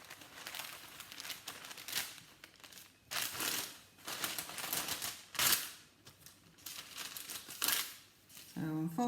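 Greaseproof paper sheets being folded in half and creased sharply for piping bags, giving a series of crisp crinkling and scraping bursts spaced a second or two apart, close and fairly loud, with no talk.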